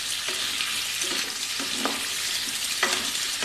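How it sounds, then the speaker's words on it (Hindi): Square-cut onion pieces lightly frying for kadai paneer, a steady close sizzle with four or five brief scraping stirs of a spoon against the kadai, no voices. "हमको इसे इतना ही भूनना है बस"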